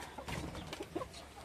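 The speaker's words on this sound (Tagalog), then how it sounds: "Ito naman ay Rhode Island Red. Rhode Island Red na manok." A Rhode Island Red hen on a rural Philippine farm gives a few soft, short clucks close by, mixed with light background farmyard noise and no talk.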